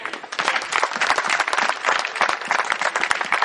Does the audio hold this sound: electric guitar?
no